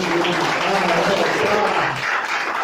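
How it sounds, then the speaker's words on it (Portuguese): A church congregation applauds during a service, a steady, full wash of clapping close by, with some voices mixed into the crowd noise. "Pode aplaudir."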